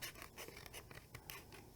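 Cricut scissors snip and scrape their way around a printed paper design with quick, close, crisp cuts in a steady rhythm; the sound is faint and nobody talks.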